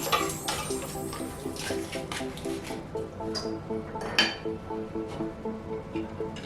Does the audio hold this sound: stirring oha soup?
yes